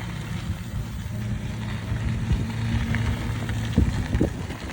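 Ride1Up LMTD V2 e-bike under throttle power, a steady low motor hum and road rumble running continuously, with a couple of brief bumps or knocks near the end.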